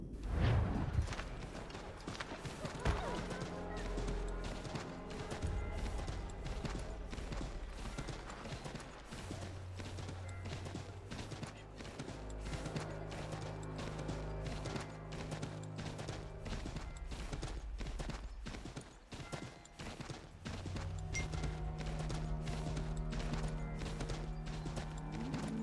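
A horse trots in Assassin's Creed III Remastered, giving steady, rapid clip-clop hoofbeats that run throughout, mixed with game ambience and occasional whooshes.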